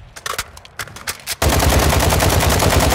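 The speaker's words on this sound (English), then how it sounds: "I know y'all hear my guns going off." In Call of Duty: Modern Warfare II, sparse gunshots give way to a loud, sustained burst of rapid automatic fire, close and intense, with no talking.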